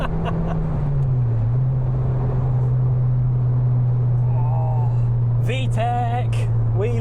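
Honda Civic EP3 Type R engine drones steadily and close, its pitch dipping and then holding under a strong in-car hum, before a burst of sharp rising revs near the end as it climbs into VTEC.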